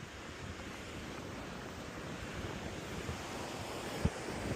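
Sea waves rolling in and washing against rocks at Victor Harbor, a steady broadband surf roar with wind buffeting the microphone and one brief knock near the end.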